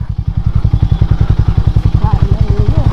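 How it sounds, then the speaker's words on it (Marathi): A Harley-Davidson X440 motorcycle rides over a rough, broken road, its engine a loud, close, rapid low thumping beat that runs steadily throughout, with faint rattles above it. "आपल्या या बाईकची फर्स्ट ऑफ रायडिंग आहे."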